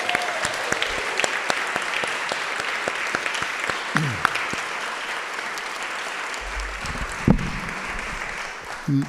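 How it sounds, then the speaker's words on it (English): Sustained applause from a dinner audience honouring the Rappaport fellows at a closing dinner, steady and fairly close for most of the stretch, with a few louder claps and brief low rumbles near the end as it winds down. "let's have one more round of applause for all of the great fellows."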